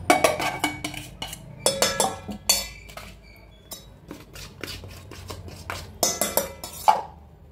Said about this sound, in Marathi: आता हे सगळं मी एकजीव मिक्स करून घेते